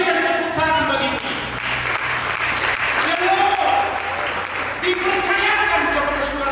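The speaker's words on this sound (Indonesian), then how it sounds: "Mari berikan tepuk tangan bagi Dia." Church congregation applauding throughout, dense sustained clapping with voices and music-like tones running underneath.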